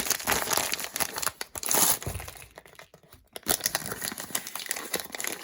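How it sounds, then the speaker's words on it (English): Crinkly tearing and crumpling of a plastic bag being ripped open to unpack a mini garden toy kit with a succulent plant, loud close rustling bursts with a short pause midway. "Oh, let's tear this bag open."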